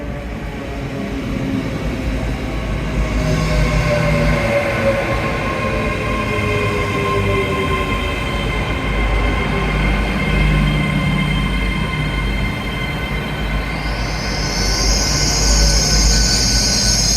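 Cardiff to Plymouth passenger train rolling past outdoors on a walk, a loud sustained rumble of wheels and carriages with a high squealing tone from the rails, steady throughout and close, no voices.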